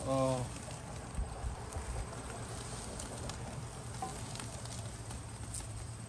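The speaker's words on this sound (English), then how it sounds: "I want to build crust on this steak, and it's hot" Chuck roast steak searing in a hot pan, a steady close sizzle and hiss running throughout with occasional clicks from tongs, a voice speaking briefly at the start.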